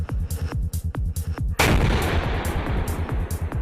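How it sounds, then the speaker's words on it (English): A T-90MS tank's enhanced 125mm gun fires once with a single massive, loud blast that rolls into a long booming decay, preceded by a rapid series of sharp rhythmic thuds of earlier shots. "the enhanced 125mm gun."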